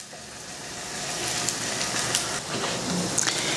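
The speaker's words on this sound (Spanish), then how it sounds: "tengo aquí ya una sartén con aceite caliente y le he bajado la temperatura para poder comenzar a freír nuestras torrejas" Spinach torrejas, a kind of fritter, fry in hot oil in a pan set to a lowered heat, giving a steady broadband sizzle that holds at an even level throughout, with faint crackles and small pops near the pan.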